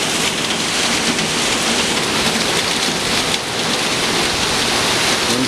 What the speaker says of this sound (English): Gutters can't handle the downpour.